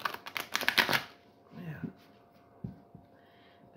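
Oracle cards are shuffled in a rapid burst of papery riffling, close and fairly loud for about a second, followed by softer handling rustles and a few light taps in a quiet room.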